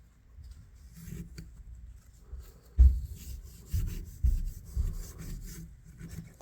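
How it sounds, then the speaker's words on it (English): A vintage Kutmaster electrician's knife scrapes rust out of a tight spot, giving repeated close rubbing, rasping strokes with a few sharper scrapes in between. "Help scrape that stuff off down in there."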